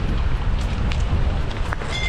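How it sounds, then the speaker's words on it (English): Gusty wind blowing outdoors during a Lake District ultra running race, heavy low rumbling buffets against the microphone that dominate the brief clip, with faint higher rustles and no speech. "Ooh, windy."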